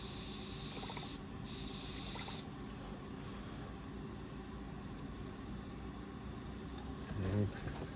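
Spray gun blasting paint onto a model car, giving a loud steady hiss that cuts off briefly, then continues more quietly with faint clanks near the end.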